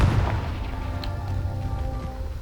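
In the Hogwarts Legacy video game, the Confringo spell is cast as a muffled, booming blast followed by a fading rumble, moderately loud, without talking.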